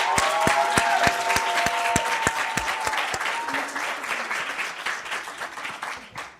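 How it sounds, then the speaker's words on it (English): An audience claps at a panel event on women in literature and film, loud and dense at first and then gradually thinning and fading over several seconds. "can we give them another round of applause?"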